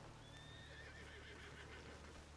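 A horse whinnies in the western video game Red Dead Online, a clear high wavering neigh lasting about a second amid soft game ambience and faint hoof sounds.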